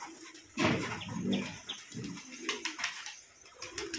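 Pigeons at a pigeon farm in a village in Jessore coo in low, repeated calls, with bursts of wing flapping and scattered chirps from the flock, fairly close and without any voices.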